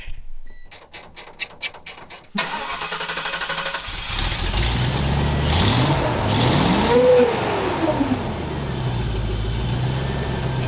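A car engine cranks with rapid clicking, catches, then runs steadily close by, revving up once before settling back to a rough idle.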